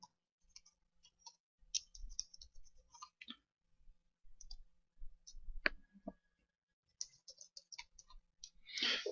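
Keys clicking on a computer keyboard as a username and password are typed, in short irregular bursts of light taps separated by pauses, fairly close and quiet with no talk.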